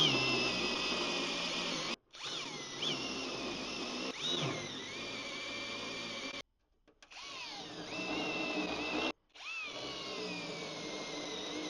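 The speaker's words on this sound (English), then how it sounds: "We got pretty much a brand new tip on the rotor broach. It's only got a couple spot welds under it" A rotor broach with a fresh tip drills out spot welds on car sheet metal, a loud, steady high-pitched whine that runs in several sustained bursts, with short stops between them and slight pitch dips as the cutter bites.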